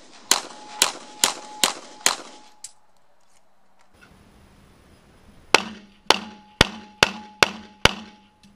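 Sharp, loud gunshots strike a BulletSafe armor panel for a children's backpack, five evenly spaced rapid shots, a quiet gap, then six more in quick succession.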